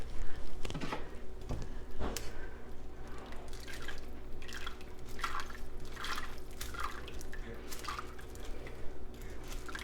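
Dry split peas tip into a pot of broth for homemade split pea soup, making a few soft plops and drips early on, then a steady low wet churn and faint kitchen clatter.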